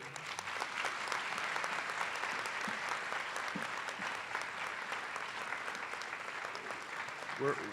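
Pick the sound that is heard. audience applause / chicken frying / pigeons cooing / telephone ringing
audience applause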